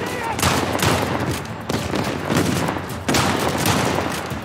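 Pistol gunfire in Uncharted 4: A Thief's End, PS5 version, on brutal difficulty: loud sharp shots burst out repeatedly in an uneven rhythm, mixed with other gunfire, while a voice talks over the action.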